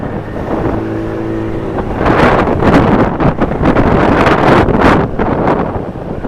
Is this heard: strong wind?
yes